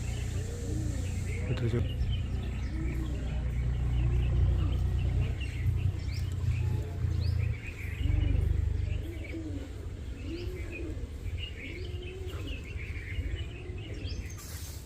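Pigeons coo in repeated soft, rolling calls nearby, mixed with outdoor background sound and faint chirps. Someone speaks briefly over them.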